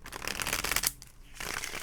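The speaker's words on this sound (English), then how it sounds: "one more shuffle" Tarot cards are shuffled by hand in quick riffling bursts, a crisp papery flutter close to the mic with a brief pause midway before shuffling resumes.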